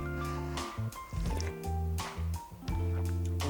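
Miso ramen broth is sipped and slurped from a spoon, several short wet slurps in a close, irregular rhythm with no talk over them.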